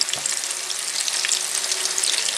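Chopped onions and finely minced garlic sizzle and fry steadily in oil in a pan for spaghetti aglio e olio, a continuous close bright crackle with no talking.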